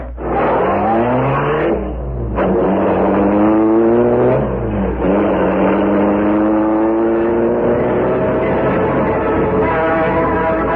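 A car engine revs as a sound effect in The Green Hornet radio drama, a loud, continuous motor whose pitch climbs and dips through several surges, heard alone with a narrow, old-broadcast tone.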